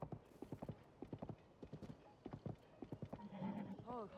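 Horse hooves clip-clopping in the video game Zelda Tears of the Kingdom, a rhythmic series of close, distinct hoof beats with a horse's whinny near the end.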